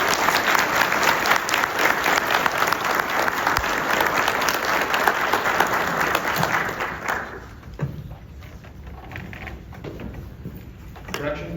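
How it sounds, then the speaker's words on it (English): Applause for Deputy Ortiz at a county sheriff's office awards and promotions ceremony: a hall full of people claps loudly and steadily for about seven seconds, then the clapping thins and fades into scattered claps and low room noise. "A round of applause for Deputy Ortiz."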